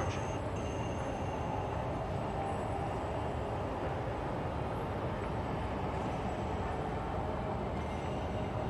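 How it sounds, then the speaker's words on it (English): In the video game Star Citizen, a continuous loud rumble of a tram rolling into a station, steady rail noise and wheel hiss filling the whole stretch without pause. "Tram now approaching."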